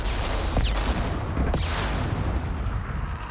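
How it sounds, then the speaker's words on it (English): Cannon fire in the video game Mass Effect 2: two sharp booming blasts roughly a second apart over a dense, roaring battle din, loud and close. "And Gary falls at the sound of the cannon"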